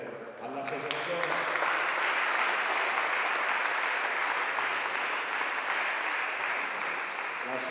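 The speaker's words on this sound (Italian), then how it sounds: "vorrei che facessimo l'applauso immediatamente all'associazione" Sustained applause from a press conference audience for the organising association of the Trofeo Cave di Cusa 2017, steady and full for most of the clip after a brief quieter start.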